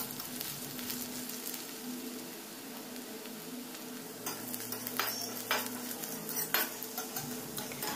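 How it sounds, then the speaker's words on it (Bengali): Chopped onions and dried chillies frying in a pan, a steady soft sizzle with scraping spoon strokes and occasional utensil clinks, fairly quiet and close. "এই পেঁয়াজ কুচিগুলোকে লালচে হওয়া পর্যন্ত আমি একটু ভালো করে ভেজে নেব।"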